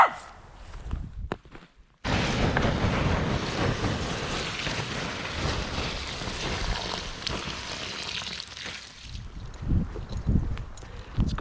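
Strong gusts of wind buffet the microphone on an open-water canoe trip, a broad roaring rush that starts abruptly and carries on for several seconds, with a lapping, watery rumble and brief quiet stretches at either end.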